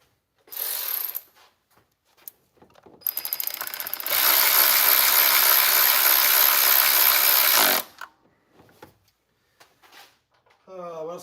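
A ratchet tightens a nut during a carbon fiber velocity stack install on a motorcycle, a loud, fast continuous clicking burst of about four seconds after a couple of shorter tool sounds, with brief speech around it.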